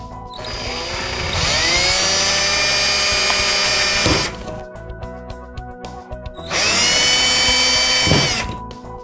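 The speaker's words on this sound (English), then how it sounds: "let's go ahead and drill our holes" A power drill whines loudly in two bursts, drilling pilot holes for a DIY tablet teleprompter, running for a few seconds, stopping, then drilling again, close by.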